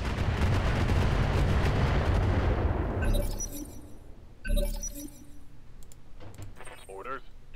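In the Roguetech mech game, incendiary weapons fire in a loud, sustained roaring barrage. It cuts off sharply, followed by a heavy impact boom, scattered crackling and metallic clinks.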